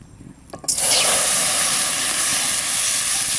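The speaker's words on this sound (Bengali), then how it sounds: "মাছ ভাজা হয়ে গেছে আমি ওই কড়াইতেই জল দিয়ে দেবো" Water poured into a hot wok just after frying rohu fish bursts into a loud, sudden hiss that rushes up and holds steady and close, boiling and sizzling without letting up.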